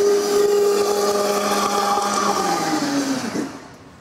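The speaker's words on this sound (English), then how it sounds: "Into the blender until smooth." A blender whirs loudly and steadily as it purees cooked apples into apple sauce, its motor pitch sliding down as it winds to a stop at the end.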